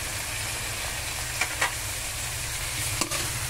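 String beans and eggplant sauté in a hot pan for pork kare kare, a steady loud sizzle with a few soft scrapes of a stirring spoon and no voices.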